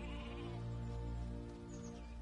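Sheep bleat in a sustained, wavering call, fairly close and alone, with a quiet rural background behind it.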